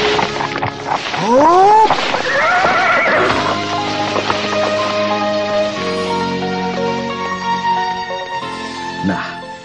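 A horse near a large stable holding several pack horses gives a loud, close whinny that rises and falls, then hooves clop steadily as other horse sounds follow and a final snort closes.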